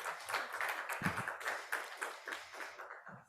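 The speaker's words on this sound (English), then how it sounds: "Please give a round of applause for our first speaker." Applause for the first panel speaker at a carbon-market tenure rights event, a short burst of scattered hand clapping at moderate distance that thins out toward the end.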